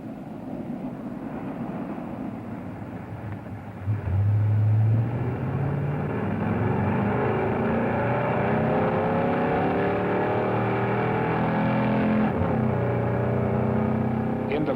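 A race car makes a flying mile speed run under NASCAR timing. Its engine drones steadily, then surges louder and climbs in pitch through successive shifts as it builds to full speed, sustained and strong throughout.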